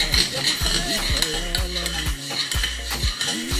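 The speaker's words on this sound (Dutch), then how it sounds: "Blijf non-stop roeren zodat de tapioca niet plakt." Rhythmic stirring of tapioca in a pot, a spoon scraping and thudding around at a quick, steady pace, close and fairly loud.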